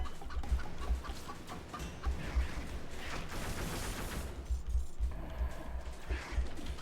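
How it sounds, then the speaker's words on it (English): Chicken clucking in the video game Dead Cells, a soft rhythmic series of clucks with game sounds in the background. "Chicken."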